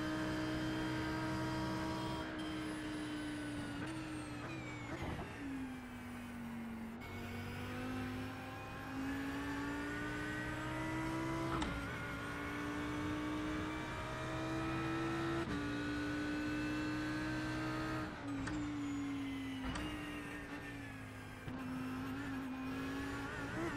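GT3 race cars in a racing video game drone with a loud, continuous engine whine that climbs and dips through repeated gear changes, drafting closely behind another car.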